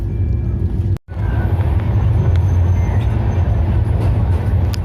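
An ICF-coach Shatabdi Express on Indian Railways runs along, a loud steady rumble and roar heard from inside the train, briefly cut off near the one-second mark before resuming unchanged.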